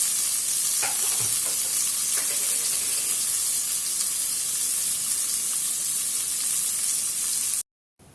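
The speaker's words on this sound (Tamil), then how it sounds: "தேவையான பொருள் வதக்கணும். எண்ணெயில் ஜிஞ்சர், இஞ்சி பூண்டு பேஸ்ட்," Ginger garlic paste sautéing in hot oil in a pan, a steady loud sizzle with a few stirring scrapes early on, cutting off abruptly near the end.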